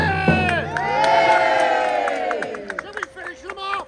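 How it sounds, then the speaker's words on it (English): A crowd at a historical re-enactment weekend of the 6th Virginia regiment at Oakwell Hall bursts into loud cheering and shouting, voices rising together then trailing off into scattered whoops. "Give us a cheer!"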